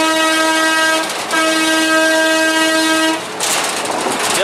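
A locomotive passes over a triangle reversing track, sounding a loud, sustained horn that breaks off briefly and then resumes. The horn gives way to a close, rushing rumble of the train on the rails.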